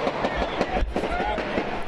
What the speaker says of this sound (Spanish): Shootout with police. Another number of gunshots.